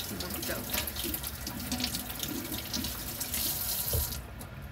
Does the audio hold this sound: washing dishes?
yes